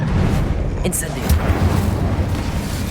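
Fiery spell blast from the Incendio charm in Hogwarts Legacy, a loud rumbling whoosh of game combat effects that keeps going throughout, with a few sharper bursts layered on top.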